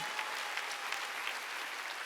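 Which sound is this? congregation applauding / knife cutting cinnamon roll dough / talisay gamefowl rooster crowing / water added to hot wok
congregation applauding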